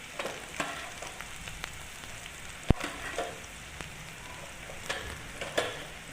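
Beetroot chutney with coriander and salt being stirred and sautéed in a pan, a steady close frying sizzle broken by repeated scraping stir strokes and a sharp utensil tap midway.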